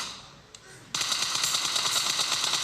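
Automatic gunfire in the mobile game PUBG Mobile, a loud continuous burst of rapid shots that begins abruptly after a short quiet stretch with a single faint click.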